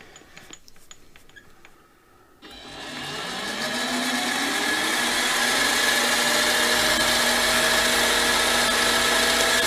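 A mini lathe starts up after a quiet pause and keeps running and cutting, a loud steady whine and hum rising and settling with no talk.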